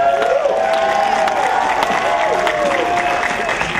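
An outdoor crowd at a rainy event claps and cheers loudly and continuously, dense applause with scattered whoops, close and full.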